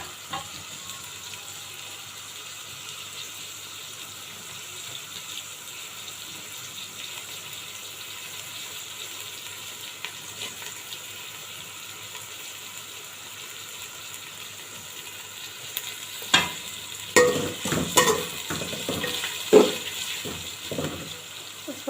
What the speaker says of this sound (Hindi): इसको मैं 5 से 10 मिनट फ्राई करूँगी